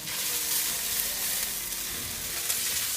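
Carrots and mushrooms fry in a hot pan for an Asian lettuce cup filling, giving a loud, steady, hissing sizzle with faint stirring scrapes and no voices.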